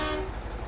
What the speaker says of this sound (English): Outside, honk, this is the best part